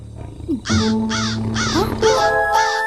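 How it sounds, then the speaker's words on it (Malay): A cartoon crow caws five times in a steady, evenly spaced series, each call loud and close, over sustained musical tones. "Hei, gagak gagak."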